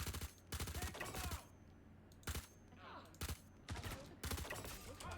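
Sharp gunshots from Star Citizen bunker combat: several clustered bursts of rapid shots separated by short pauses, close and loud, over a low steady hum, with no talk.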